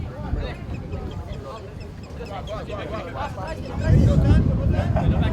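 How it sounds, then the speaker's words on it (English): Wind buffets the microphone in a continuous low rumble at a soccer match, swelling stronger near the end, while voices talk and ducks quack in the background. "It's still very windy"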